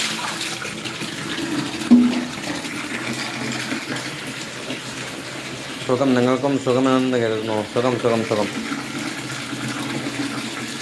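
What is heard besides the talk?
water filling from a tap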